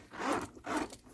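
A bag zipper is pulled open in two quick, close raspy strokes.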